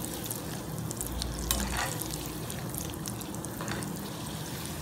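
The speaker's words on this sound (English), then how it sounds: "Fry this until golden brown." Ingredients for a South Indian spicy mixture snack frying in hot oil give a continuous close sizzle and bubbling, with occasional stirring scrapes and a louder surge around the middle.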